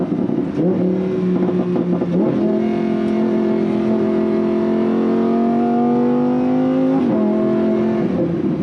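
A Lamborghini Huracan 610-4's 5.2-litre V10 engine roars loudly and continuously, its pitch climbing steadily through the revs past 8,000 RPM with brief drops at gear shifts.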